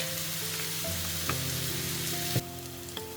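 Iberian pork pluma browning in a hot frying pan after a pinch of salt and pepper: a steady, close sizzle with a faint hum beneath and a couple of sharp utensil knocks against the pan.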